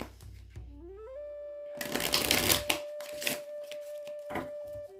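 Tarot cards are shuffled close up with a crisp, riffling flutter and a few sharp snaps. A tonal chime or sliding tone plays underneath, and no one speaks.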